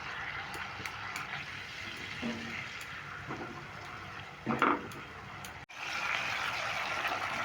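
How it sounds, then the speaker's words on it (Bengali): Spice paste with a splash of water stirred and fried in a pan for Kashmiri aloo dum, a steady soft sizzle with scraping stirs and a brief louder clatter near the middle, no voices. "এটা দিয়ে নাড়াচাড়া করে আমি মশলাটাকে একটু ভালো করে কষিয়ে নেবো দু মিনিট"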